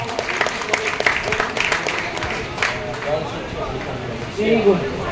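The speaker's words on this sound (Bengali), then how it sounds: "এটার জন্য একটা জোরে হাততালি পাওয়া উচিত।" A crowd applauds with steady, dense clapping that continues throughout, fairly close and moderately loud.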